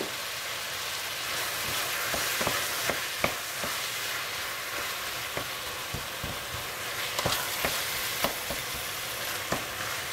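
Eggplant filling being stirred and fried in a home kitchen pan gives a steady broadband sizzle, with repeated clicks and scrapes of the spatula against the pan over about ten seconds.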